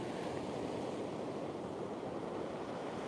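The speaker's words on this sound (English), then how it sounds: "It is some kind of windy." Strong wind blowing at the beach, a steady broadband rush buffeting the microphone alongside surf-like roar, continuous and even with no voices.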